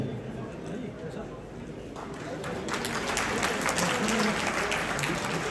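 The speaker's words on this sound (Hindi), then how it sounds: "तालियां बड़े जोर से बजे तो और भी अच्छा रहे, क्योंकि हॉल में इतने सारे लोग हैं।" Applause from a large audience in a film festival hall, starting scattered and building into louder, denser clapping, with a voice speaking over it.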